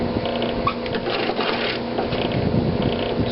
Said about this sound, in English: as it's being ground, the juice is actually draining out because it's grinding them all up